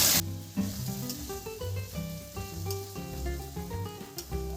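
Mutton with spices fried in hot oil gives a steady, close sizzle throughout, with some tonal sounds layered over the frying.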